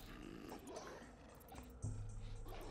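A dog-like creature in Oddworld: New 'n' Tasty gives a low, steady growl that continues throughout against game background sound and gets slightly louder near the end.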